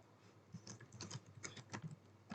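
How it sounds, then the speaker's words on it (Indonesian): Rapid, light clicking of a computer keyboard as HTML code is typed, irregular bursts of close, soft key taps with brief pauses between them. "kita ketikkan saja belajar HTML"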